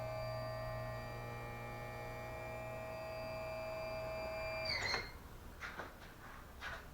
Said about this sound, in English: first thing that you want to do is tilt your motor up all the way,